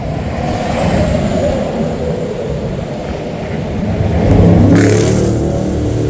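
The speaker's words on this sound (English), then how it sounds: "do these people fly by here without slowing down" Roadside highway traffic heard beside a stopped truck with a blown tire: a loud, steady engine and tire rumble, swelling as one vehicle rushes past near the end.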